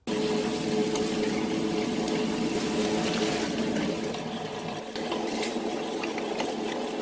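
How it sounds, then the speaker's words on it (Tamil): Steady, continuous mechanical whirring and grinding with a wet, churning texture, a wet grinder working through soaked kavuni black rice with its soaking water for idli and dosa batter; no talking. "அரிசி ஊற வச்ச இந்த தண்ணியை சேர்த்து அரைக்கணும்."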